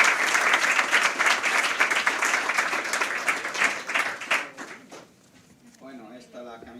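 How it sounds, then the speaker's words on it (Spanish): An audience at a data management summit roundtable in Bilbao breaks into strong applause, a thick wash of clapping that thins out and fades after several seconds before a voice begins speaking. "un fuerte aplauso porque creo que nos sacamos bastante"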